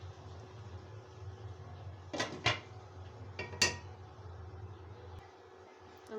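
A metal lid goes onto a pot of chicken pulao with a few sharp clanks and rattles in quick succession, set against a low, quiet kitchen background.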